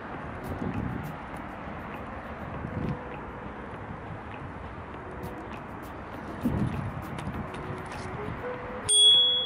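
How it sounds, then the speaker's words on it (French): A Xiaomi Mi electric scooter's bell gives a bright ding near the end of an outdoor ride, after a stretch of steady wind rumble and road noise. "La clochette fonctionne super bien."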